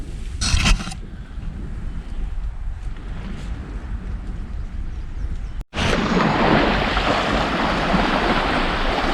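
Lake Superior waves wash steadily against the south shore at a campsite near Herbster, Wisconsin. A continuous rushing surf is mixed with wind buffeting on the microphone, and the sound jumps louder and brighter after a brief dropout.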